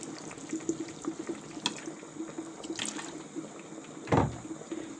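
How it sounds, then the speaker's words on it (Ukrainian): Vinegar pours briefly into a pot of oyster mushroom marinade amid soft kitchen clatter and water sounds, a short splashing burst near the end, close by. "наливаємо сюди оцет"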